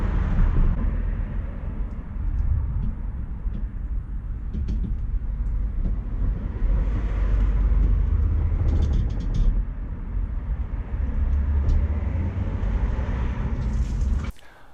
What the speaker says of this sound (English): It's moving, making a few noises, but this Porsche is driving under electric power.